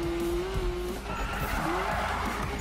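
Hard braking skid in Need for Speed on a twisty track: a steady tire squeal with a sustained screech that dips and resumes over a roaring engine, loud and close, with no talking.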